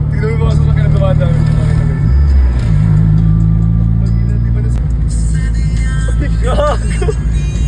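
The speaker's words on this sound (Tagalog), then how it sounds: "tignan mo yung mga sasakyan na dumadaan" Low engine rumble and road noise from vehicles passing close by on a road, with a mid-pitched engine swelling and fading, while someone talks over the traffic.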